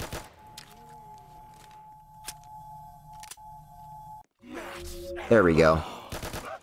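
Gunfire in the Roblox game Resurrection as a player burns through ammo, with a few sharp isolated shots over tonal game noise, then a brief spoken remark and a louder flurry of effects at the end.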